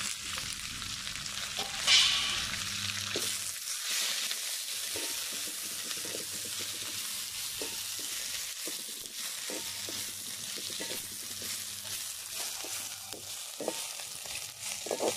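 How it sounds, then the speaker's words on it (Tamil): Chilies, curry leaves and tamarind sautéing in a pan, a continuous close sizzle with intermittent stirring clatter and a brief sharp clink early on, no talking. "இப்ப கருவேப்பிலை புளி எல்லாமே நல்லா வதக்கிக்கலாம்."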